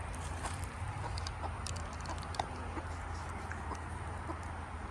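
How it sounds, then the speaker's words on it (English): A brooding, molting hen clucks softly and repeatedly in the distance, low and continuous, with faint outdoor background noise. "Y'all hear her clucking?"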